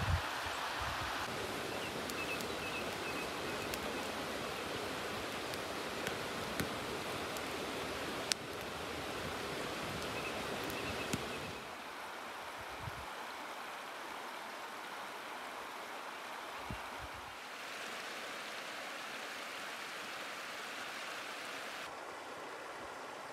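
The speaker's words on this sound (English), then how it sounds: "Just gonna let the sound of the flowing water lull me to sleep." A flowing stream runs steadily beside a campsite on the Cape Wrath Trail in the Scottish Highlands, a constant broadband rush of water that shifts slightly in level partway through, with no voices.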